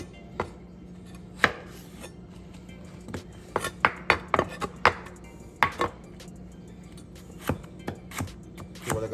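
A knife chops yellow, red and orange peppers, tomato and cucumber on a cutting board, giving sharp, irregular knocks that come close together in places and spread out elsewhere, with no talking.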